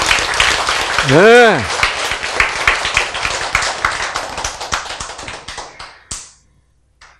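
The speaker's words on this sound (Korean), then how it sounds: "박수 한번 쳐줘" A lecture audience breaks into a dense burst of hand clapping that runs for several seconds and then tapers off, with a brief spoken word from the lecturer near the start.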